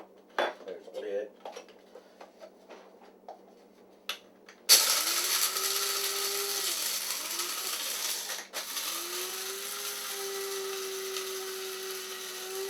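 An old alcohol-burning coffee maker with its lid on gets shaken: a few light metallic clinks first, then an abrupt onset of sustained, loud rattling and sloshing clatter that continues to the end.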